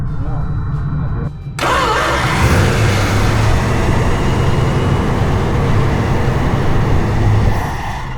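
The engine of a 1964 Plymouth Barracuda cranks and catches after a short pause, then runs roughly and loudly close up for several seconds before fading as it starts to die.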